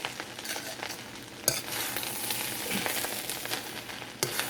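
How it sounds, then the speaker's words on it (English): Jamaican-style ackee and saltfish with cooked vegetables being stirred in a wok, soft sizzling under scraping spoon strokes and a few sharp clanks against the metal, fairly quiet throughout. "Just make sure you stir it good."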